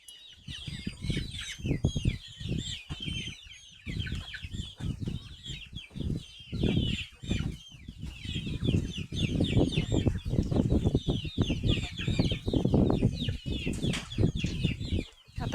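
Free-range village chickens cluck and chatter around a person walking, busy overlapping bird calls and soft shuffling noises filling the whole stretch at close range.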